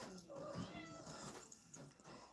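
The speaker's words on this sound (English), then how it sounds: "It's just my cat." A pet cat meows indoors, a brief, drawn-out cry that sounds faint and close in a quiet room.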